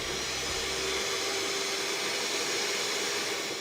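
An electric stand mixer whirs steadily with a constant motorized hum as it beats a sugar mixture, loud and continuous with no talking.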